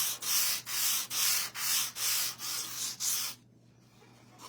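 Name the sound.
sanding painted item lightly by hand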